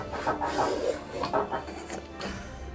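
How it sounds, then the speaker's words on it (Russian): A vegetable peeler scrapes the skin off a pumpkin in a kitchen, making short, rhythmic rasping strokes close up, several in a row with brief pauses between them. "Легче всего это сделать с помощью овощечистки."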